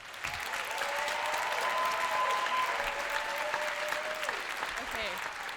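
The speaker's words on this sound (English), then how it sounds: "Let's give one last round of applause to everyone who made this luau happen." Sustained audience applause fills a college Hawaiian club luau, dense and steady throughout with cheering, and a voice or music tone drifting faintly underneath.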